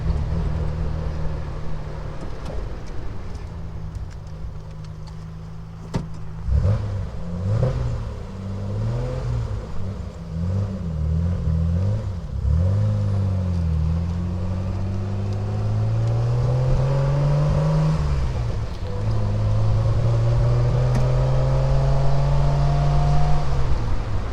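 A Triumph Vitesse engine running rough with a misfire, its uneven note wavering and rising as the car pulls away through an urban street, steady and close throughout with no talk.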